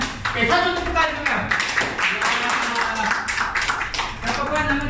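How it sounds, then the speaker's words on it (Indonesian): A group at a public-speaking workshop claps hands together in a burst of uneven, crisp applause, with voices chattering over and between the claps. "Satu tepuk tangan dulu"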